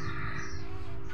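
A bird calls among date palms near a nest, a single harsh caw-like call against a steady background hum, fairly close.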